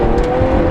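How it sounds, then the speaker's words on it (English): A Lamborghini Aventador SV Roadster's V12 engine gives a brief, loud, steady roar, heard up close in one continuous burst. "Listen to that engine"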